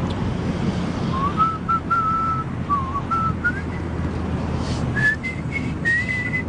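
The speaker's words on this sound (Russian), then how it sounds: "Свистит." A person whistles a simple wavering tune outdoors, clear steady notes in short phrases over a constant windy background rumble.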